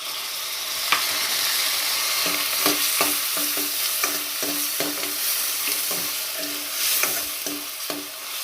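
Onion and tomato pieces frying for a broad bean and tomato curry, a continuous close sizzle with repeated scraping stirs of a spatula in the pan.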